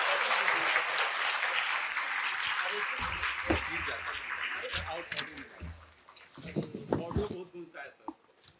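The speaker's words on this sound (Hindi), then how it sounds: "जोरदार तालियों के साथ" An audience at a government appointment-letter ceremony applauds to welcome the chief minister, broad clapping that starts strong and gradually thins, with talk and scattered handling noises emerging near the end.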